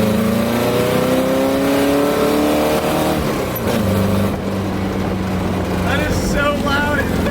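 Engine of a 1968 Baja Bug pulling hard in second gear, a loud close droning note rising then settling lower as revs change, with a brief voice and some road and wind noise toward the end.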